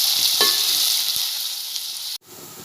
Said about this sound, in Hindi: ये देखिए, हमारी प्याज फ्राई हो गई है।